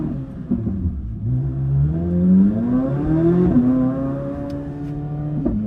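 A Corvette C8 Z06 burbles and rumbles on a late night drive, its engine note climbing smoothly as it revs up, then easing back to a deep, steady drone heard close from inside the car.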